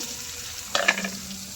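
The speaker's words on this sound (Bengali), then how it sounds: "পেঁয়াজটা ভাজা হয়ে যাক" A short burst of sizzling and crackling from onion frying in hot oil, rising briefly then settling into a soft hiss.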